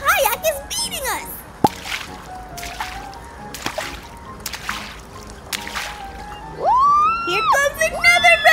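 Water splashes and sloshes as paddles dig in during a whitewater rafting run on rapids, with intermittent splatters and rushing water beneath excited children's and adults' voices calling out.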